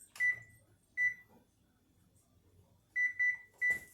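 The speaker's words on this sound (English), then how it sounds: "Set our timer." Kitchen timer being set while cookies bake: a handful of short, bright electronic beeps in two spaced groups, the later ones coming in a quick run of three, over a quiet room.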